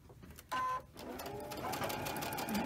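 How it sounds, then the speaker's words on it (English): A sewing machine stitches through quilt block fabric in a steady, close mechanical whir after a brief startup buzz, running continuously without talk. "So let's go ahead and sew this"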